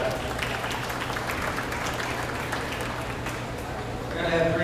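Applause for class winners at a beef cattle show fills the arena as a steady crowd clapping, swelling a little at the end, with a speaker's voice running over it.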